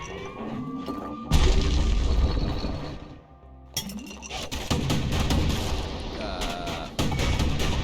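Hand grenade explosions in the video game Bastion: loud, broadband blasts with crashing, clattering debris, one burst near 1.3 s and another around 3.8 s, followed by sustained rumbling crackle.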